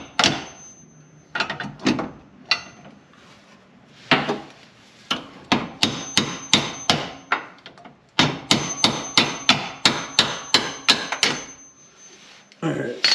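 Hammer tapping a bolt out of a bracket on a 2020 Ram 1500 Rebel truck, a close series of sharp metallic knocks in quick bursts, some evenly spaced and some clustered, with brief pauses between runs.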